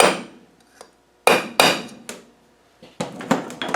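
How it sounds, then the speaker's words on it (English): Hammer and small punch tapping a circlip into place on a Land Rover LT230 rear drive housing, sharp metallic strikes in uneven clusters of two to four, close and loud with no voices. "I just get a hammer and a small punch, tap the circlip down"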